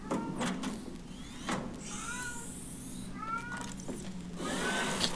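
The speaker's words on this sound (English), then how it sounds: "Also, sorry about my cat. She's being funky and kind of loud." A pet cat meows loudly several times, drawn-out wavering cries near the microphone over a steady hum of video-game ambience.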